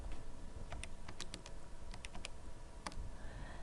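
Fingers tap buttons on a small solar calculator, about a dozen quick, light clicks in an irregular rhythm, close and fairly faint over a low hum, with no talking.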